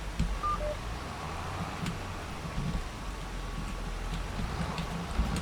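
Steady rain hiss in the Farming Simulator 25 video game on the Riverbend Springs map, a soft continuous patter filling the background at moderate level with faint tonal blips over it.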